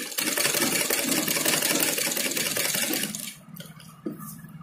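A sewing machine whirs continuously as it stitches piping cord onto the edge of a blouse. The motor runs for about three seconds, then stops, followed by a few quiet handling noises.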